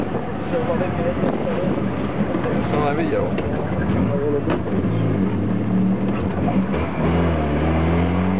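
A Trabant car engine revving during a speed test, a buzzing two-stroke drone under steady road noise that climbs in pitch toward the end, with people talking over it.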